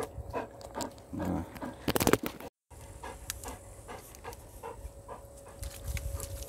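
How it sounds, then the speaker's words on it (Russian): Dogs panting and playing close to the microphone near a lake, with quick breathy pants, scuffles and sharp handling knocks, including a brief dropout. "Тут собаки балуются очередь."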